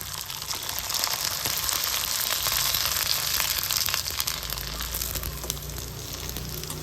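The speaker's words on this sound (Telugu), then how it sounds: "ఇప్పుడైతే వీళ్ళు పాపడాలు వేస్తాను. ఇట్లా నూనె వేడి వేసుకొని" Rava vadiyalu, semolina papads, frying in hot oil, giving a steady bubbling sizzle with crackling bursts, close and continuous throughout.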